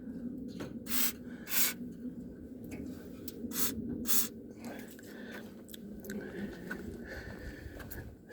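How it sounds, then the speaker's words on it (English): WD-40 aerosol sprayed onto hood hinges of old Square Body trucks: several short, sharp hissing bursts at close range, with quieter rubbing and handling noises between them. "Just kind of going around spraying hood hinges and stuff"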